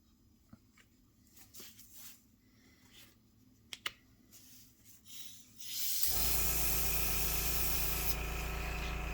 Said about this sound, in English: I have my compressor set at about 12 or 13 psi.